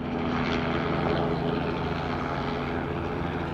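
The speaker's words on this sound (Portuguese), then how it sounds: "Mais uma vez o helicóptero aí na quebrada" A steady, loud drone of a helicopter engine with a low throbbing hum, holding constant throughout as if passing close overhead at 7 a.m.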